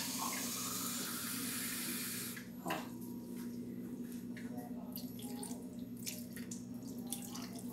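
Tap water runs steadily into a small cup in a home kitchen during cooking, a continuous close hiss and trickle with a few splashes, under a low hum and a voice speaking.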